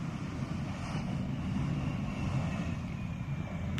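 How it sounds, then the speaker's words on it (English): Steady rumble of a KLM Cityhopper Embraer E190 or E175 regional jet landing at the Polderbaan runway in Amsterdam, a continuous distant engine roar that holds level throughout with no voices. "KLM City Hopper, and they use the"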